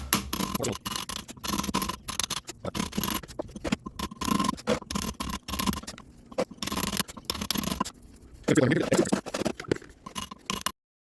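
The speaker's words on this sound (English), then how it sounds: "So I'm going to cut through here and cut some more of a groove." A cutting tool grinds a groove into a concrete paver while numbers are engraved, a continuous close, rough scraping that comes in bursts with short pauses, then a louder stretch near the end.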